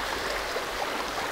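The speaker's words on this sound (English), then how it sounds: "in on a really small, very small creek." A very small creek near Yellowstone Park and the Gallatin River, flowing with a soft, continuous close babble and no other sounds.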